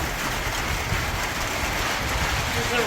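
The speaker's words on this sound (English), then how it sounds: "It's raining." Steady dense hiss of rain falling, an even close wash with no gaps or individual drops standing out, heard alone without talking.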